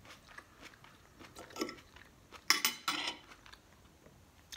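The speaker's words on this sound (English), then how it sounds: "I'm gonna take a bite of the sausage and the scramble" Biting into and chewing a sausage and egg scramble, with cutlery clinking against a dish; a few soft crunchy bites and scrapes, then two louder close bursts of chewing and utensil noise.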